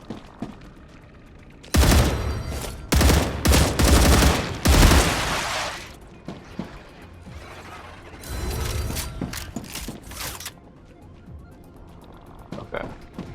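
Gunfire in the sci-fi game StarRupture, loud bursts of rapid rattling mechanical shots in several clustered volleys separated by quieter gaps, with a few scattered softer clicks and pops afterward.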